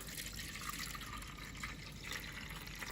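Water being slowly poured off the top of settled bean paste for shiro-an, a faint, soft, continuous trickle and splash that stays low and steady without talking.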